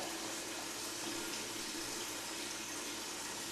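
Water pours steadily from a tap into a basin while homemade bread dough is being prepared, a continuous close splashing rush with no voices.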